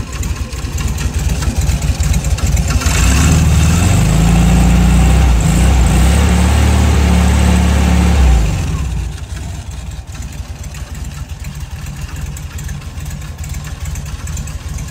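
Air-cooled engine of a light beige 1970 VW Fusca (Beetle) in excellent condition, fitted with an alternator, idling steadily at close range, loudest through the first half before dropping to a quieter low hum.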